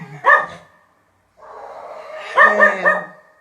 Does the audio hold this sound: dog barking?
yes